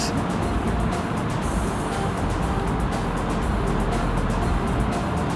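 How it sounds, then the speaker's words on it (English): Sewing machine stitching cargo pocket fabric onto cargo pants, a steady, loud, continuous mechanical whir with a fast fluttering texture running unbroken throughout, no voices. "So I'm just going to sew it like this"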